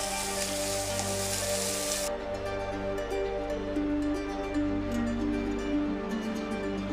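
Chopped onions hit hot oil in a pan while making a chicken cheesy snack, a loud, steady crackling sizzle that carries on continuously and fairly close.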